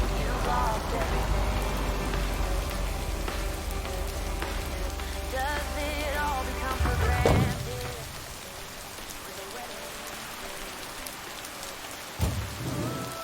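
Heavy rain pours steadily in the video game Lake, a dense continuous hiss with occasional thunder rumble, while game music and brief sound effects sit over it.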